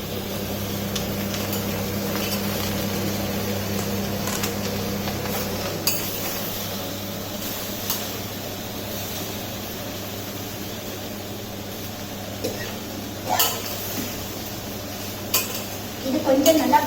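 Brinjals sautéing in a pan for a Tamil coconut sodhi give a low steady sizzle, with occasional clinks and scrapes of a utensil against the pan growing busier toward the end.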